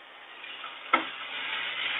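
Green chillies, garlic and ginger hit a hot pan on a high flame with a sudden sharp splash, then settle into a steady close sizzle and crackle, with no one speaking.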